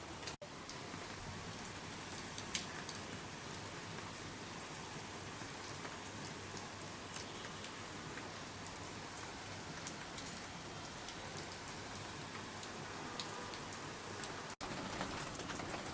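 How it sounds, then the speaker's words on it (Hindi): Heavy rain pouring steadily, a dense even hiss of drops on surfaces with no pauses and no voices, at a fairly quiet level. "झमाझम बारिश हो रही थी।"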